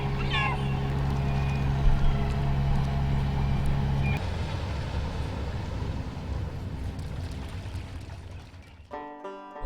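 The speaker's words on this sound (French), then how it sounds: "Ça, c'est M. Pierre qui rentre. Je reconnais le son de son moteur." A fisherman's small boat motor returns to harbour, a steady low tonal hum and rumble that dominates at first, then blends into broadband engine and water noise before cutting off near the end.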